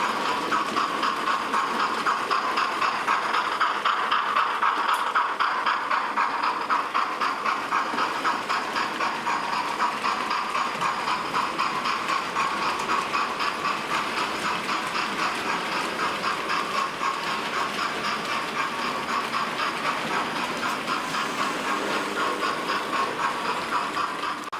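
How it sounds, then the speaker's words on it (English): A Hornby Merchant Navy class model locomotive runs around a short loop of track, giving a steady mechanical whirring and rhythmic clicking of wheels over rail joints, continuous and fairly close. "you're going to see more of the weathered locomotive quite simply because it's running around on a shorter loop"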